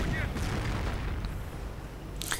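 Panther tank cannon fire in a real-time strategy game rumbles as a steady low barrage of distant booms, with a voice talking over it.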